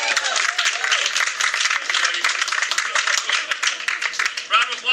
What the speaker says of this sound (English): Everybody, a round of applause for my beautiful wife,